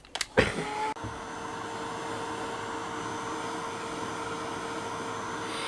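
A hair dryer or heat tool blows steadily while drying an inked craft box, a continuous whirring hum with a faint tone that starts after a couple of clicks and runs evenly to the end.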